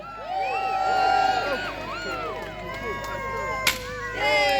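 A Robin Hood festival crowd in Sherwood Forest cheers for Lady Marianne, a steady outdoor wash of shouts and whoops with children's voices, plus one sharp crack near the end.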